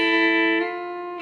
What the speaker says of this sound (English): So that's going to sound like this played slow.